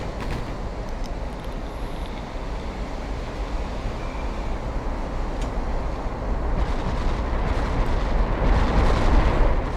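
Warship guns firing in Ultimate Admiral Dreadnoughts, heard as a continuous rumbling barrage of heavy shots that swells louder toward the end, with no voices over it.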